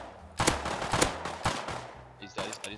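Sharp gunshots in the game Rust, four or five loud cracks spaced roughly half a second apart, then a quick double burst near the end.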